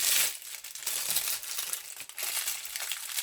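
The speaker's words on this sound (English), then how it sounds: "Let me remove the plastic paper." Plastic wrapping crinkles and crushes near the mic as it is pulled off a Guess designer handbag, a continuous rustle with short pauses between handfuls.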